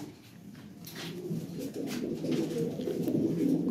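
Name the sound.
Toy Lahore pigeons cooing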